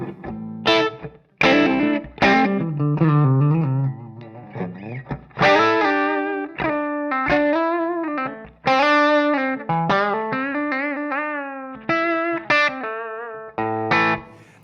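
Crunchy, distorted Gibson Les Paul electric guitar through a Jackson Ampworks Britain 4.0 tube amp, played in choppy chords and sustained notes, with gaps of silence between phrases; loud and close, no voices.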